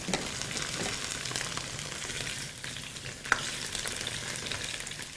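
Potatoes frying in very hot oil in a pan, a steady crackling sizzle close by, fairly quiet and continuous with one brief sharp pop, no voices.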